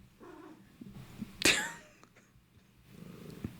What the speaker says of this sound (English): Lie down, silly cat.